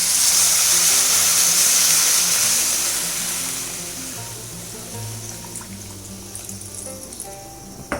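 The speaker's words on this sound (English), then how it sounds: "Poured in about 250 to 300 ml of water." Water poured into a pan of sauteing vegetables for upma, a loud hissing rush at first that fades into a softer bubbling simmer with a few small clicks.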